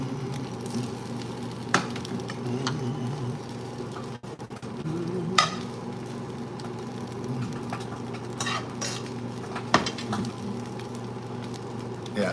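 A frying pan warming leftover sausage at breakfast gives a steady low sizzle, with occasional sharp clinks of a utensil against the pan, close by and with no voices.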